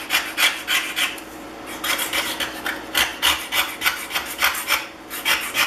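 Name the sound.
scraping rust off an iron cap with a scraper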